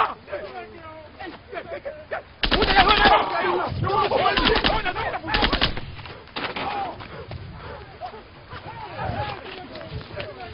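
Machine gun fired by a monkey, with two loud, close bursts of rapid fire separated by a short pause, amid ongoing voices talking.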